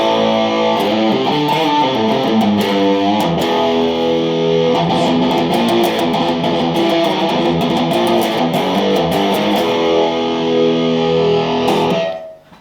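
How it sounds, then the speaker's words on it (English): Electric guitar played through a reverb pedal with a heavy, washed-out reverb, chords ringing and blending continuously at steady loudness before cutting off near the end. "it sort of sounds like there's a bit of reverb on there"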